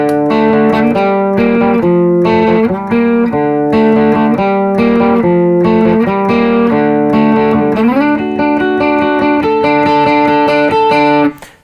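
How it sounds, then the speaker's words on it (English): Electric guitar plays the distorted, effects-laden intro riff, a repeating melodic line that runs steadily and loud for about eleven seconds with no voices, then stops abruptly. "It's got a cool recognizable line."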